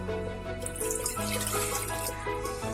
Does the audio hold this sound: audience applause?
no